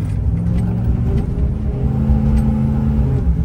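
A Chevrolet Silverado pickup with the Duramax diesel engine runs steadily nearby, a loud, continuous low engine rumble and drone with a slight rise in revs, heard alone without speech.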